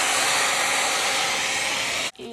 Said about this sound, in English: get my hair dryer, and I'm just going to turn it on.